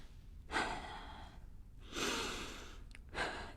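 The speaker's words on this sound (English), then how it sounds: "2 more breaths here." Slow, deep, audible breaths are taken while holding a forearm plank in a yoga studio class, three long airy exhales spaced about a second and a half apart, close and fairly quiet, with no speech.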